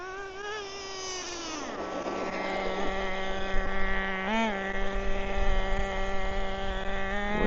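A small nitro engine of a Traxxas Nitro Rustler RC car whines with a high, buzzing tone, dipping in pitch and then revving steadily, with gusts of wind in the background.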